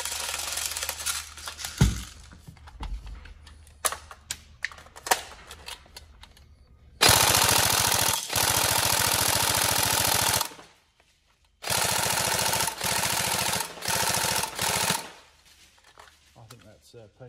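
An upgraded Tokyo Marui SCAR-L NGRS airsoft electric gun fires loud full-auto bursts at a rapid, steady rate, two long strings separated by a short pause, preceded by scattered mechanical clicks and handling noises.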